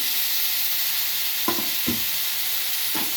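Four large chopped tomatoes added to chili powder frying in oil in a pan, a steady bright sizzle with a few soft thuds and stirring scrapes.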